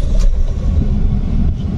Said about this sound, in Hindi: ये इस गाड़ी का स्टार्टअप है।